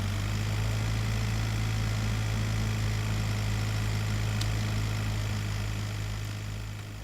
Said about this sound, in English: We definitely heard their car